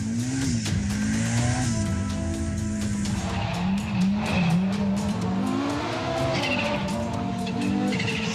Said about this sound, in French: On est en vite avec une Audi Quattro S1